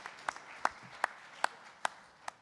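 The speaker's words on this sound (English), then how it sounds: "So a round of applause for Francois" Thin applause at a rally press conference for a long-serving photographer, a handful of sharp, evenly spaced claps over a faint background patter.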